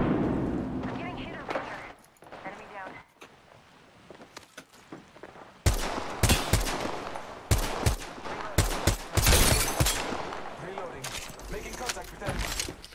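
Gunfire from the Apex Legends video game, with scattered shots at first and then dense bursts of rapid automatic fire and sharp reports, loud and close, while a voice talks intermittently underneath.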